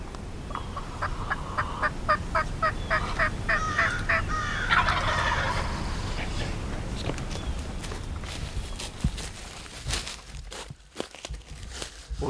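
A wild turkey in the South Carolina woods gobbles in a rapid series of loud, rattling bursts, followed by rustling footsteps and crinkling brush close by as someone moves for cover.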